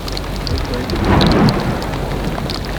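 Steady heavy rain pours down during a wet-season afternoon thunderstorm in the Kruger bush near Pretoriuskop, with a low thunder rumble swelling in the middle, all close and loud.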